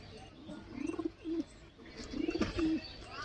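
Pigeons cooing at a loft selling Giribaz and similar breeds, two short bursts of soft, throaty coos close by, separated by a brief pause, with no talk.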